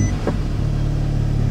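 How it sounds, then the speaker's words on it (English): An Audi S3 engine cranks and catches with a brief starter burst, then settles into a steady low idle rumble close by. "And now if I start the car"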